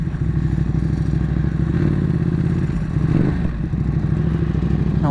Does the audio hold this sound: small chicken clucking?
no